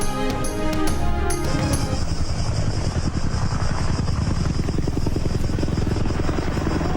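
A firefighting helicopter flies overhead, its loud, continuous rotor thump and engine drone filling the recording throughout and staying steady.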